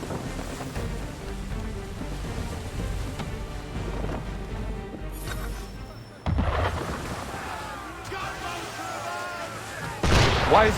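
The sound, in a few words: gunfire from a ship in video game Assassin's Creed III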